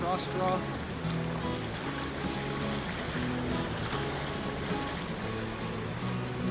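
A canoe on the flowing Akan River in Hokkaido, with constant rushing and trickling water and splashing against the hull, a steady close wash of stream noise with tonal background sound and voices underneath.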